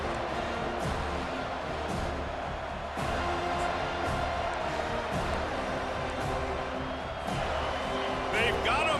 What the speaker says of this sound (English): They've got them pinned back, and they're trying to rattle their eardrums. Listen to this crowd.